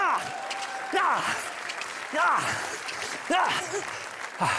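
A talent-show audience applauds a woman performing a mime act, with bursts of clapping and cheering rising and falling over a host's voice and bright, swooping vocal exclamations.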